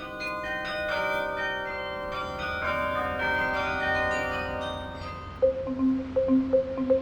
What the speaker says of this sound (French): On ne paye pas de ticket d'entrée pour écouter le carillon, puisqu'il s'écoute dans toute la ville.